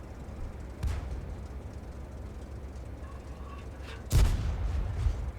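Tank cannon shots from an M36 Jackson in a tank video game, aimed at a distant Russian heavy tank: two sharp booming blasts, a fainter one early and a louder one near the end, over steady low engine rumble.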